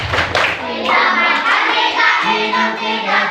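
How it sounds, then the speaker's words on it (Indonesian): Children at a Ramadan class clap in a steady rhythmic pattern while chanting together, a group clapping chant with young voices under and between the claps. "Tepuk puasa."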